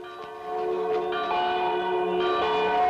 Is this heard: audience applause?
no